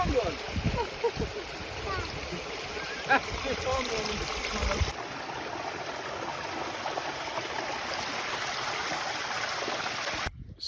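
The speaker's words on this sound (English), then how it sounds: "waterfall." Steady rushing water from a waterfall in the Peak District fills the whole clip, with some louder splashing and a person briefly talking near the start.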